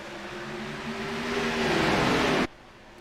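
A pack of race cars in a racing video game accelerates away at the green flag at Watkins Glen, engines swelling and rising in pitch for about two seconds before the sound cuts off abruptly.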